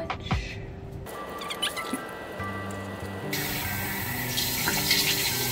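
Tap water runs into a bathroom sink while a face is washed, a steady close wash of splashing and flowing water that grows brighter and fuller partway through, with no talking.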